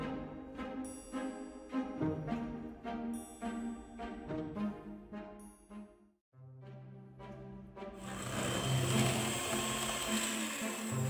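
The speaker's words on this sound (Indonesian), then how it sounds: "Lalu, mixer dengan kecepatan tinggi sampai putih berjejak." Electric mixer whipping eggs, sugar, vanilla and emulsifier for a coffee mocha sponge cake at high speed, a close mechanical whir with clattering that pauses briefly, then returns as a louder, denser roar.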